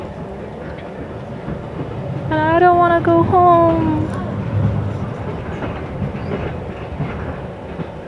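A train whistle sounds on a passenger train riding through Samedan, Switzerland, a rising, held tone lasting about two seconds over steady rumble of the carriage on the rails, with someone speaking briefly afterward.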